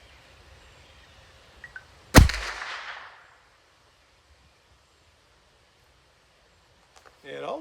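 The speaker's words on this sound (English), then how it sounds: "so I'll try to get a shot off quickly here." A single sharp gunshot is fired at a target on an outdoor shooting range in light wind. One loud crack rings out with a short fading tail, and quiet ambience comes before and after it.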